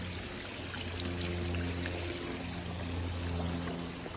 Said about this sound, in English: Water's flowing real good over the spillway.